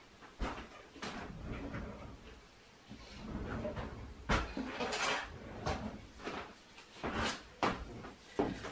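A kitchen drawer slides and knocks as someone rummages for a knife during cold process honey soap making, with cutlery rattling and several sharp clacks and thuds close by.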